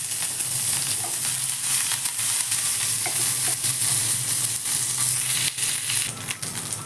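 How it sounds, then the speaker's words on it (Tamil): Dried red chillies, ginger, green chillies and curry leaves tempering in hot oil for curd rice, giving a steady, close, loud crackling sizzle with occasional pops throughout and no talking. "நல்லா பொரிஞ்சிருச்சு."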